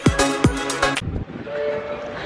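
A Manchester Metrolink tram sounds several loud, tonal blasts in quick succession, then settles into a low rolling rumble.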